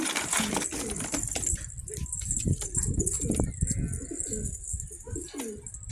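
Karışma breed pigeons cooing in low, throaty repeated calls close by, with a brief flutter of wings and some background voices.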